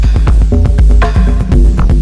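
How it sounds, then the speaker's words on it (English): A short, loud electronic groove from an Elektron Digitakt 2, with a thick, wobbling chorus-effected synth bass line pulsing under crisp drum hits, no talking. "Chorus on the bass, reverb,"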